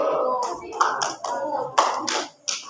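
Indonesian junior high school students clap in unison on a teacher's command, a few sharp hand claps in quick rhythm mixed with a voice speaking between them.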